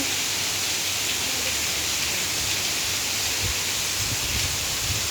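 Steady, dense rain hisses continuously, close by and evenly loud, with no voices, at Jomtien Beach, Pattaya.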